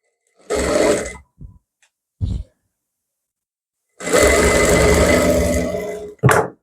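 A sewing machine stitches a border onto a blouse neckline in short bursts, first a few brief runs, then one longer steady whir, close and fairly loud with pauses between.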